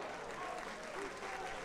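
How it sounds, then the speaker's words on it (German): Stadium crowd clapping at a football match, Viktoria Berlin against Hertha BSC II, steady dense applause throughout with a commentator speaking over it. "Mai lässt klatschen für Okpaidze"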